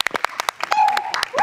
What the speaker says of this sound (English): Please unmute your microphones now if you wish to clap and be heard.